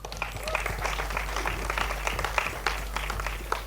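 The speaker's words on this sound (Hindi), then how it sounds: "Nishikant Kamath के लिए तालियां हो जाए." At a film trailer launch, a crowd in the hall applauds for the director, a steady spread of clapping a little distant, with a brief sharp sound at the end.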